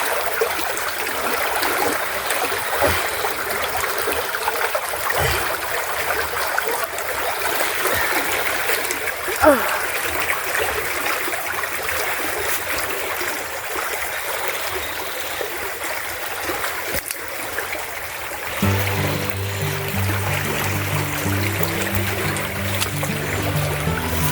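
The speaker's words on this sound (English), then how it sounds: "you can see the force that this water does have" Steady broadband rush of a fast-flowing river, loud and continuous throughout, with occasional splashes; a faint tonal hum enters near the end. Recorded in an African village.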